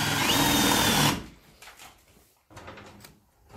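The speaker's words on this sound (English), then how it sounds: "Let's take a drill, the spade bit," A power drill fitted with a spade bit bores through wood in an attic, whirring loud and steady for about a second before stopping, followed by softer scraping and handling noises.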